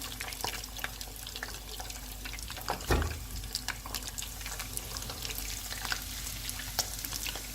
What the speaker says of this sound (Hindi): और बाकी जो है वो भी हम फ्राई कर लेंगे।